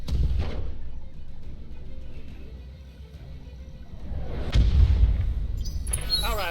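Weapons fire in the BattleTech mech combat video game, a heavy rumbling boom with a low, sustained roar that swells again near the middle and ends with a brighter metallic burst.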